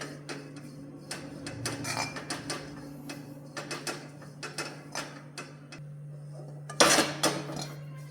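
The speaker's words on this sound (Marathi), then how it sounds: "मी आता यामध्ये हे जे आधी सुकं खिसलेलं खोबरं आहे हे घालून घेऊया आणि छानपैकी सोनेरी रंगावरती हे खोबरं आपण भाजून घेऊया" Dry grated coconut roasts in a kadhai, heard as intermittent scraping and tapping from a spatula against the metal pan, with clicks and small clatters over a quiet background, one louder scrape near the end.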